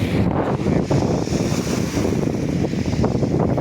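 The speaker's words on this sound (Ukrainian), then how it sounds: "трошки вітер" Wind blows steadily across a quiet seaside beach in Croatia, gusting into the microphone with a constant roar and a hint of waves beneath. No voices are heard.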